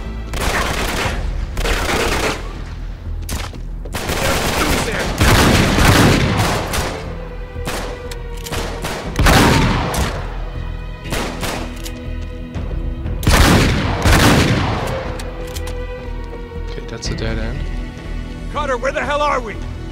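Heavy gunfire in the Uncharted 3 video game, with loud repeated bursts and booming shots filling the whole stretch and voices mixed in underneath.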